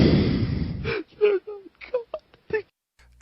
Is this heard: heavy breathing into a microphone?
yes